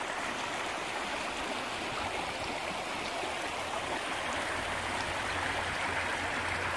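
A stream runs steadily nearby with a continuous broadband rush and fine splashing texture, even and unbroken throughout, with no voices over it.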